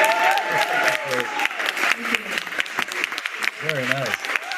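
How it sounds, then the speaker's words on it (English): An audience claps in a broken, uneven patter during a composer interview, while voices speak intermittently over and between the claps. "I'm gonna let the others clap for you."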